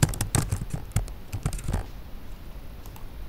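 A computer keyboard typed on at a quick irregular pace, a burst of close, crisp key clicks that thins out into faint tapping and room hiss, with no voices.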